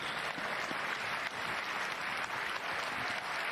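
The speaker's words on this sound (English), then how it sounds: "Such admiration in the applause" Steady applause from a tennis crowd rises after a point in a match between John McEnroe and Stefan Edberg, sustained and even at a distance with no talk over it.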